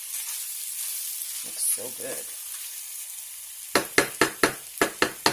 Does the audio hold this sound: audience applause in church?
no